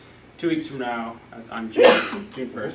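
A single sharp sneeze bursts out near the middle of a room meeting, loud and brief, set among ongoing speech.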